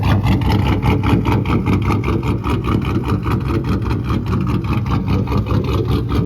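A cammed LS 6.0 V8 in a lowered 4x4 OBS truck idles with a loud, choppy, lopey rumble, the uneven beat steady and close throughout with no talk.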